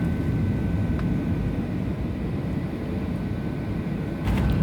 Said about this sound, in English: as we make our final descent in San Jose